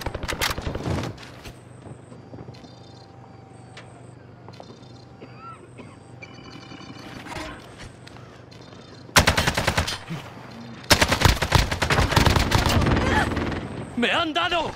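Turret machine gun fire in Call of Duty: Modern Warfare, loud dense bursts of rapid automatic shots erupting in the second half after quieter game ambience, with players talking over it.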